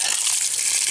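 Water rushes steadily from a newly installed frost-proof outdoor faucet (silcock), a loud, continuous hissing gush with no talk over it.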